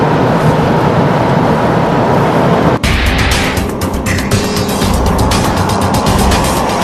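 A test car swerves through a lane change during tyre testing, its engine and road noise roaring steadily up close, then shifting abruptly into a harsher, choppier rush of tyre and wind noise for the rest.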